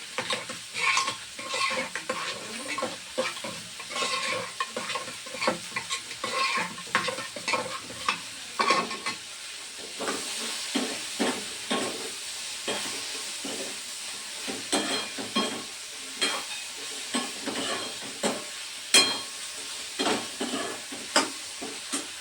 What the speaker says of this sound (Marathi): आता डाळीला तडका देणार आहे.